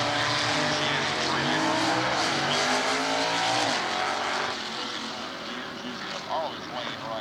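Stock eliminator drag race cars, including a Chrysler, roar down the strip at a 1992 NHRA divisional race in Atlanta, loud engines rising in pitch then fading into the distance, with an announcer talking over them.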